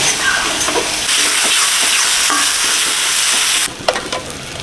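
Coriander, turmeric and chilli powders frying in a pan with a splash of warm water for fish-head moong dal, a loud hissing sizzle that drops off sharply, then a few spoon scrapes.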